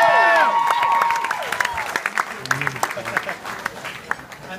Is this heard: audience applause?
yes